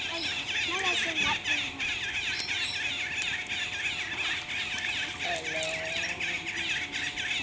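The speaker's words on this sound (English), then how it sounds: "You hear the birds?" Several outdoor birds chirping, squawking and calling in repeated short bursts, with people talking and children's voices mixed in around a backyard badminton game.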